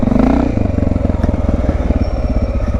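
A motorcycle pulls away from a stop as the clutch is let out, its engine chugging in a steady close, loud pulse that holds even as the bike begins to move.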